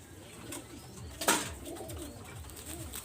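A pair of flying-breed pigeons coo softly and repeatedly in low, rolling calls, with a short rustling burst partway through, close by against steady background noise.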